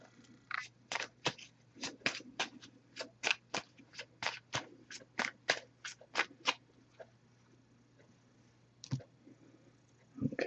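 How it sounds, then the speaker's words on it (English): Oracle card deck being shuffled by hand: a run of about twenty crisp, rapid card riffles and snaps in an even rhythm, close and fairly loud, then a pause with a couple of isolated taps near the end, over a faint low hum. "I'll give this a few shuffles"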